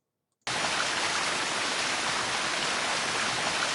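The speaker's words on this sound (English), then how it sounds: "Waterfall." Waterfall ambience from the Thief 3 level editor: a steady, loud, broadband rush of falling water that starts abruptly after a brief silence and runs on unchanged with no other sounds.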